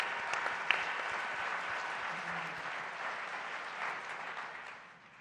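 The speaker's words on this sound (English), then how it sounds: "I really want to give another round of applause for all the Jewish student leaders" An audience at an event on anti-Jewish hate applauds for Jewish student leaders, a dense, sustained round of clapping that fades toward the end.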